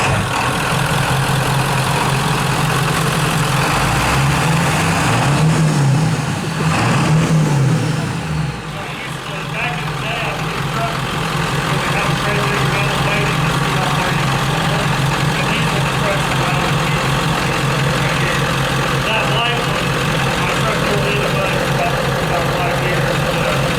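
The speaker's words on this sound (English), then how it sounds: "this one here should be warming up. So it should fire right now" A five-speed manual SWAT truck with bulletproof glass runs with a steady low engine rumble. Its pitch wavers and climbs briefly, as if firing up and revving, then settles into an even idle.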